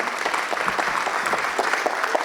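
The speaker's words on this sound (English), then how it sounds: "a round of applause for Kathy Knopp, our executive assistant who put this party on" Party guests at a bank leadership event give a steady round of applause, dense and even throughout with no pauses.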